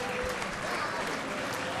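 Crowd applause at center court after a tennis match at the Paraguay Open, a steady dense wash of clapping from a large audience, heard from a distance under a commentator's voice.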